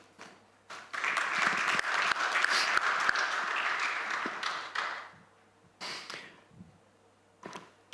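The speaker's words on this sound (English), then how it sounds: "Please give a big round of applause to Karish." Audience applause at a construction industry summit in the UAE swells quickly and holds steady for several seconds, then fades, leaving a few scattered late claps.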